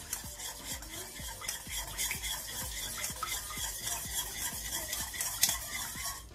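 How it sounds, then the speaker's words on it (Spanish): A small spoon stirs fish marinade with coloring in a bowl, producing a steady run of quick rhythmic scraping clicks, close and clear with no talk. "lo mezclamos todo con la cucharita"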